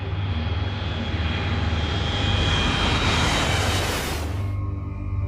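Airliner engines roar steadily as China Airlines Flight 642 approaches Hong Kong's airport in a typhoon, with a loud sustained drone that swells and then cuts off near the end.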